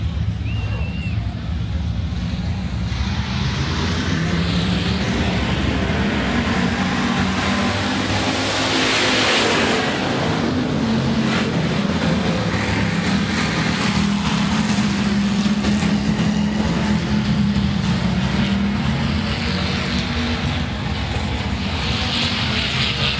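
Hobby Stock race cars roar around the Rapid Speedway dirt oval during a heat race, a loud, constant engine drone that swells as the pack passes near.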